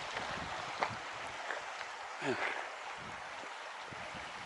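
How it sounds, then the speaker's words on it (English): A small bubbling stream at a picnic spot in a mountain valley, a steady broadband water wash close by, with a brief voice heard over it. "Got the little bubbling stream."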